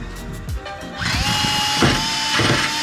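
A power sanding tool on high speed grinds rust scale off an RV battery tray, a steady close whine with rising gritty surges as it bites into the metal, after a few brief knocks and handling noises at the start.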